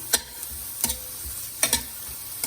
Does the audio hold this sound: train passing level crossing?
no